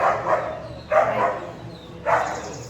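Dogs in a residential colony bark three times at a moderate distance, each short bark separated by about a second of quiet.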